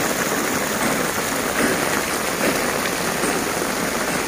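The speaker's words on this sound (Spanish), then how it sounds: "Miren nada más como está lloviendo de fuerte." Heavy hurricane rain pours down in Acapulco, a dense, steady roar of downpour with no break, loud and close throughout.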